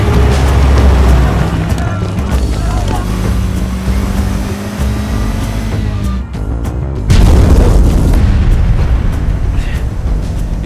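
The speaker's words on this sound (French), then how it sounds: "Ils ont dû poser une bombe." A bomb blast in a video game: a loud, heavy rumble and boom filling the scene, with a fresh surge of roaring debris noise partway through and a voice speaking over it.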